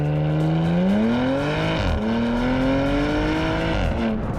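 A Porsche Macan GTS with a PDK gearbox pulls away hard from a standstill, its engine loud and close as it revs rising through the gears, with two distinct upshift dips before it climbs again.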